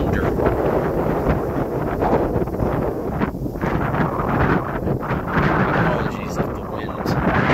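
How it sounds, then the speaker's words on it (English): Strong breeze sweeping over an open prairie of grasses, buffeting the microphone with a constant loud rumble and roar. "Apologies if the wind is really affecting the audio. It's a breezy one today."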